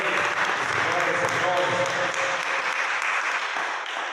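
Sustained applause from a church congregation fills the room, steady and dense, with voices mixed faintly underneath.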